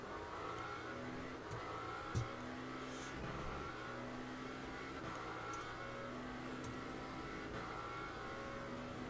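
Race car engine in the Le Mans Ultimate racing game at Bahrain, a steady mid-pitched drone that drops through quick downshifts, with one brief sharp blip, continuous and fairly loud with no talk.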